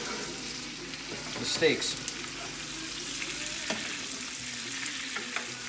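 NY strip steaks sizzle in a pan while being spoon-basted with rosemary garlic butter, a soft steady frying hiss with a few brief scraping and clinking accents, someone briefly speaking over it.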